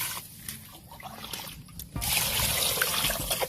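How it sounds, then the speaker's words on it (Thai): Water poured into a pot over a pork leg for stewing, first with light trickling and sloshing, then a sudden heavier, steady gush of pouring water, close and moderately loud. "เดี๋ยวจัดการต้มตุนกันต่ออ่ะใส่น้ำเลยครับ"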